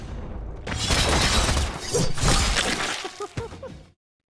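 A building is blown up in an action film scene, heard as a loud sustained blast with shattering debris and whooshing rumble that swells, holds for a few seconds, then breaks into scattered crashes before cutting off.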